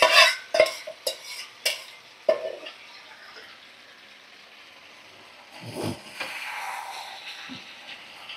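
Fried potatoes and fried chicken stirred together in a pan over a medium gas flame: a few sharp spatula scrapes and clinks at first, then a soft steady sizzle with occasional louder stirring bursts, no talk.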